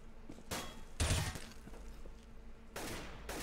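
Gunfire in Counter-Strike on the map Cache during a match, several sharp bursts of shots at the start, middle and end over a low background hum.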